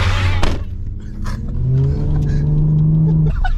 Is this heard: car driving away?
yes